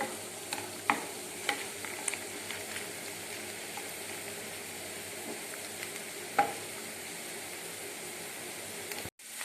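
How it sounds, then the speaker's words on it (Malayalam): Mustard seeds and fenugreek crackling and popping in hot oil, a steady close sizzle broken by sharp little pops at irregular moments. "കടുക് പൊട്ടിത്തുടങ്ങി."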